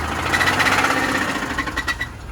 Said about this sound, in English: all that is bottom end knock